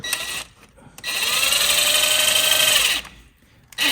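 A power tool drives a 19 mm socket to remove a ball joint on a 2015-2021 Subaru STi, giving one loud, close, steady whir of about two seconds between short bursts.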